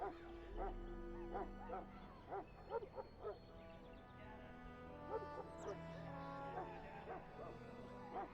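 A Mabari war hound barks in Dragon Age: Origins, a series of short repeated barks in uneven bursts layered over steady game music and ambience.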